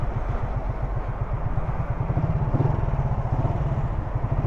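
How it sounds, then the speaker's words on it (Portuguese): A loud, close, big motorcycle engine rumbles steadily with a rapid, throbbing low-pitched pulse, idling or moving slowly nearby on a city avenue in Bauru, São Paulo, Brazil. "nem moto grandona, tá me fazendo barulho no meu vídeo."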